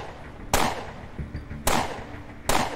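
Three sharp, loud flashbang grenade blasts in the video game UnderRail, evenly spaced about a second apart, each a sudden crack followed by a brief fading rumble.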